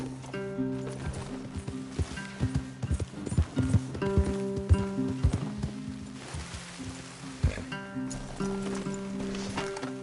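Horse hooves clip-clop in an uneven trotting rhythm in Red Dead Redemption 2, several animals moving together at close range, with occasional creaks and a steady background drone.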